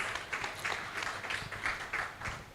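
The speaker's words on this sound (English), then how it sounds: "Round of applause for Dr." Workshop audience applauding a speaker at a tax reform implementation event, with moderate, fairly quiet clapping that swells in loose bursts across the whole stretch, heard from a distance in a large room.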